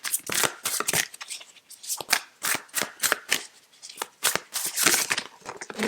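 Tarot cards shuffled and drawn from a deck, a close, crisp run of rapid riffling snaps and papery flicks in quick irregular bursts, fairly quiet with no talking.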